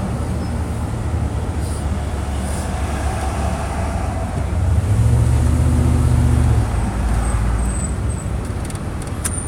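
Steady low rumble inside a car on the way to a jobsite around Pittsburgh, road and engine noise droning continuously and swelling louder midway, with no talk.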